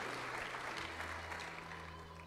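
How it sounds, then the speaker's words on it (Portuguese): Church congregation applauding during a service, a broad steady wash of many hands clapping over a low sustained hum, heard fairly faintly and continuously throughout. "Você pode aplaudir a Jesus."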